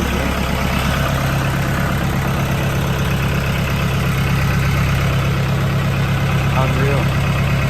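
A farm tractor's engine runs steadily at idle with a loud, continuous low rumble and drone close by, with no talking.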